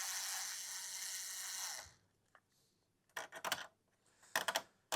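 Screws and washers come off a heatsink in a hardware teardown: a long steady rasping whir of a driver tool for about two seconds, then quiet, followed by short metallic clicking and rattling bursts close by.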